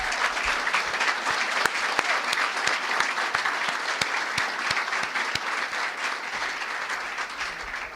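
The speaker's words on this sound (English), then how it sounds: "A special round of applause for Jeff Hathaway." Banquet audience at a student-athlete awards dinner giving a steady round of applause, sustained even clapping from a room of people, moderately loud and fading slightly toward the end.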